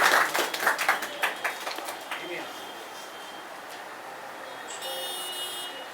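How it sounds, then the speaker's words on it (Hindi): Audience at an Urdu literary gathering claps for an honoured guest, a brief burst of applause in the first two seconds that fades, followed by a quieter room with a faint electronic tone near the end. "जोरदार तालियों से उनका इस्तक़बाल है।"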